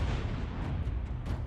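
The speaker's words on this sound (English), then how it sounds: "there's the obvious physical blast of an explosion" An explosive blast set off to test a G-Shock G-Steel watch, heard as a heavy, continuous low rumble with scattered bursts and crackles, loud and sustained throughout and no talking.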